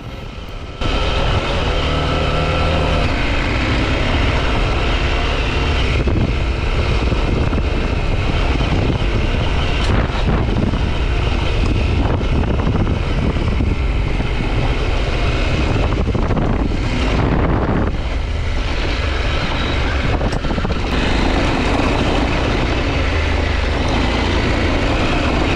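KTM 890 Adventure R and 390 Adventure motorcycles riding a mostly flat forest road, a steady loud engine drone with heavy wind rush throughout and slight pitch shifts as the throttle changes.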